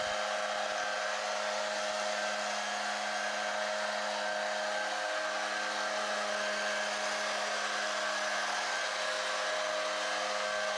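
A lightweight TMC leaf blower with a Kawasaki engine runs at a steady, loud, close whine with a constant engine drone throughout, no voices present.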